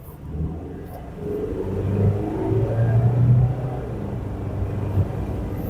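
A 2025 Mitsubishi Triton Athlete 4x4 pickup accelerates at full throttle, its engine drone rising into a steady low rumble and whir heard from inside the cabin, fairly faint and without talk.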